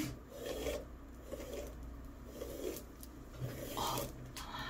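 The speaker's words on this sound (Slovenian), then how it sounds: "samo počešem si kodre." Curly hair is combed in a series of soft, rhythmic raspy strokes, each a brief rubbing scrape repeated about once a second, close and fairly quiet with no talking.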